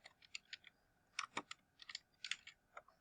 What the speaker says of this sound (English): And here you're going to type it so the text can display this.